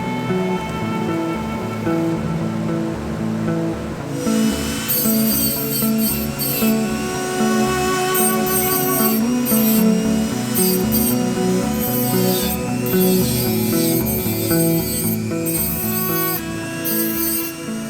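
A hand file rasps steadily along the metal tang of a knife, a continuous close scraping with repeated strokes, loud and unbroken throughout, with no talking.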